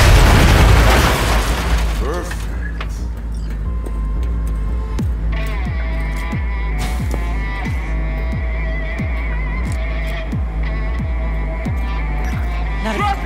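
A C4 explosive detonates in the video game Cyberpunk 2077: one heavy boom at the start decays into a low rumble, followed by a steady pulsing hum with rhythmic thuds.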